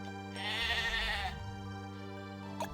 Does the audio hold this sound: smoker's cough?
no